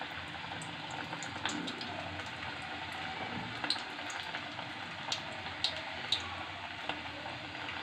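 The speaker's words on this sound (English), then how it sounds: "add it to the oil and fry it on a low flame" Sweet corn vada batter frying in hot oil over a low flame, a steady soft sizzle and bubbling with occasional sharper pops and crackles throughout.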